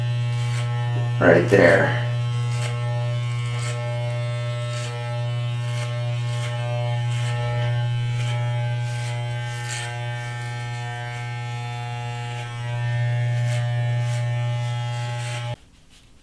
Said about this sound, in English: Using our clipper without the attachment